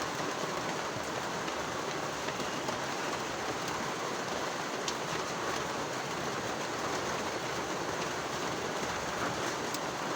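Steady rain falls in an even, unbroken hiss throughout, with no voices.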